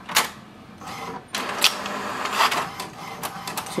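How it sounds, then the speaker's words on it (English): An HP DeskJet 4252e inkjet printer prints copies over Wi-Fi, giving clicks and short mechanical whirs followed by a steady motorised feeding and carriage run, close and moderately loud with no talk. "Within few seconds it starts to print over the Wi-Fi."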